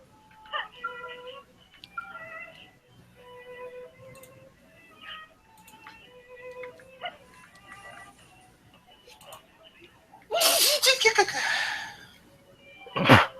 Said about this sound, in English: Was that a sneeze?